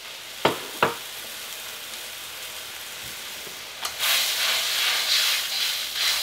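Eggroll filling with oyster sauce and sugar sizzling in a hot pan, a steady broad hiss of frying that swells louder partway through, with a couple of brief clinks near the start.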